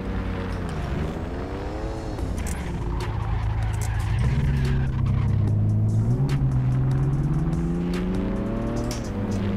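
A Toyota GR Yaris engine in the City Car Driving game revving hard, pitch climbing and falling through several surges as the clutch is eased, loud and continuous with no talk over it.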